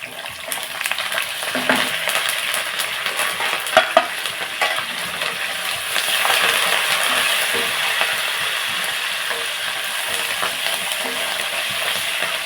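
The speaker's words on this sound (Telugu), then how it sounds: "ఇప్పుడు మనం ఆవాలు జీలకర్ర కరివేపాకు ఎండుమిర్చి వేసేసుకుందాం" Mustard seeds, cumin, curry leaves and dried red chillies fry in hot oil as a tempering for pumpkin curry. A continuous crackling sizzle swells partway through, with occasional soft stirring taps and no voices.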